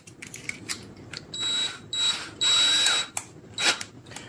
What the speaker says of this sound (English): get a drill bit that's big enough to go through that hole